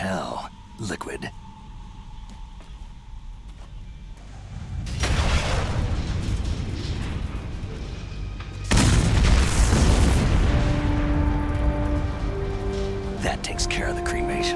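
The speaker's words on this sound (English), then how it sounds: "That explosion before, what was it? Oh, I had to take out that helicopter." A helicopter explosion in Metal Gear Solid: The Twin Snakes, heavy booming blasts erupting twice with rumbling debris and crackling aftermath, loud and close, followed by musical tones trailing off.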